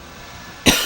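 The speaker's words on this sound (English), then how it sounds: "the coughing fits come back with a vengeance" A person with a persistent cough gives one sharp, loud, close cough out of near silence, followed by a brief breathy tail.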